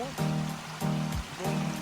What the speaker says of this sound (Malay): Jadi air terjun ada, cuma tak kuat